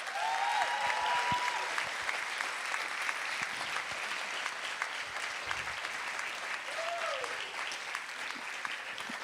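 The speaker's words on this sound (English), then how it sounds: "I think she needs lots of applause." An audience applauds a dancer at her Bharathanatyam arangetram, sustained, even clapping from a sizable crowd that fills the whole stretch with a faint voice or two underneath.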